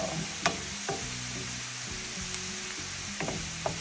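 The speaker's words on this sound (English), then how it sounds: "when it stops sizzling like that means most of the moisture is gone anyway." Steady crackling sizzle of food frying in hot oil, with a few soft clinks of a utensil stirring in the pan.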